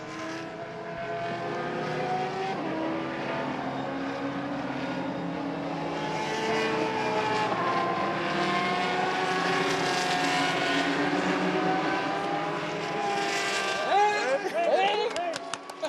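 Formula V race cars scream past at the Hungaroring, their engines a loud, sustained whine with rising and falling pitch, while a commentator talks over the racing.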